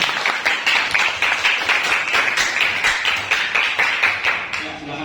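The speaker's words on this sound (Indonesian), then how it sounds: "Ya, tepuk tangan." A classroom group claps steadily together in sustained applause at the close of a school lesson, dense rapid hand claps filling the room.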